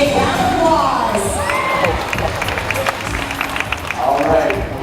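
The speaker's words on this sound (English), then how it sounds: "Let's give them a big round of applause." A live stunt-show audience claps and cheers with shouts and whoops, children's voices among them, a busy crowd roar with people talking over it throughout.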